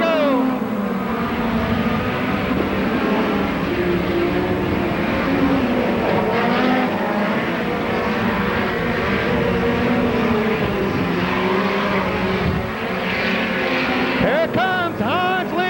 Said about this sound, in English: Hans Lean coming by 1 lap to go.